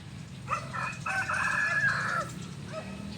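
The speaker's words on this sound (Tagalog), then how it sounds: "tumitilaok ang mga manok" A rooster crows once, loud and close, its drawn-out call rising and falling over a quiet rural background.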